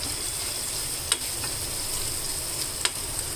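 Brinjal curry frying in a pan after turmeric goes in, a steady close sizzle with a couple of faint clicks and no talking.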